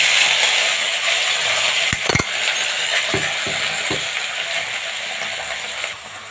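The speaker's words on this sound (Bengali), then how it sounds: "এখন দিয়ে দেব আম।" Mango pieces fry in mustard oil with whole mustard seeds and dried red chillies, a loud continuous close sizzle broken by a few sharp spoon taps while stirring, no voices.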